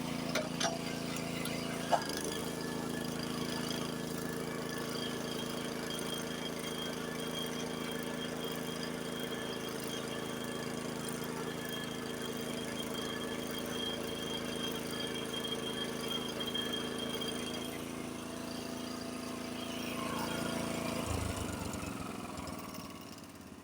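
Honda snowblower engine running under load while clearing snow, a steady droning mid-pitched roar that holds for a long stretch with slight bogging, then eases toward the end, nearby and without talk.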